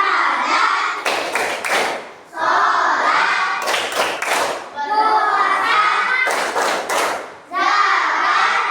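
A group of children performs the Tepuk Rukun Islam clapping chant in a classroom, with loud bursts of rhythmic hand claps alternating with sung chanting voices, close and lively throughout.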